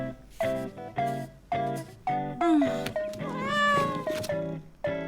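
A cartoon cat meows again and again in short, close, insistent calls, ending in a longer, drawn-out wailing meow before a few final quick ones.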